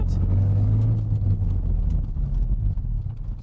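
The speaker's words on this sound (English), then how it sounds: "as we leave this gravel car park, go a bit faster than maybe you would in a lower car" A 2003 Toyota MR2 Roadster (ZZW30) rolls across a gravel car park, its engine droning low and steady while tyres crunch over loose stones, close and fairly loud throughout.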